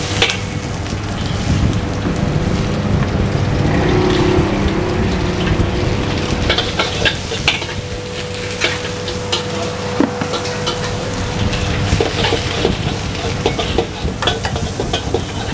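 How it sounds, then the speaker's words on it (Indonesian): Hard vegetables stir-frying in a wok until slightly smoky, a steady loud sizzle with scraping and clattering of a spatula throughout, no voices. "Oke, sayuran keras udah kita tumis sampai dia agak smoky"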